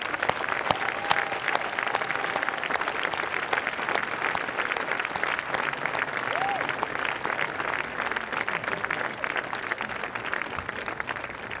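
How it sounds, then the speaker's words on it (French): An audience at the Prix Découverte photography prize at Les Rencontres de la photographie in Arles applauds the nominees with sustained, dense clapping that fills the room steadily, with a whistle or two rising above it. "que vous puissiez les applaudir, vraiment, franchement"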